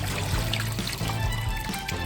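About a litre of water poured into a pot over the peels of three mangoes, a loud, close, continuous gushing pour with steady splashing throughout.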